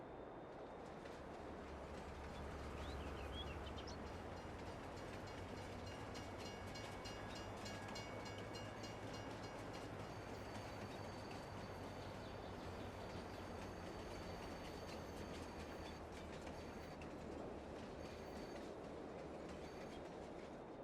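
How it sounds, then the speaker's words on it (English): Freight train being loaded with salt and coal in Farming Simulator 22, a steady faint rumbling of rail cars with rhythmic clatter and occasional metallic squeal, continuous and without talk. "Let's go load up the train."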